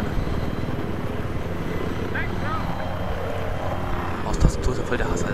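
A loud, steady Apache helicopter rotor drone in a video game fills the whole clip, with faint game effects and a brief thud near the end.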